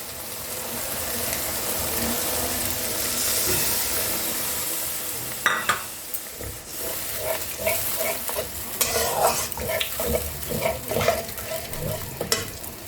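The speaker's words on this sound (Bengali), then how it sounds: "এবার আমি এর মধ্যে দুধ দিয়ে দেবো, যেরকম নর্মাল টেম্পারেচার দুধ" Milk is poured into Mughlai chicken masala in a hot pan, first a loud continuous sizzle and hiss, then rhythmic stirring scrapes and bubbling close by, with no one talking.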